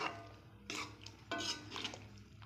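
Thick South Indian-style chicken kosha with curry leaves and coconut being poured and scraped out of a pan, a few distinct clanks and scrapes of a utensil against metal over a low kitchen hum, no talking.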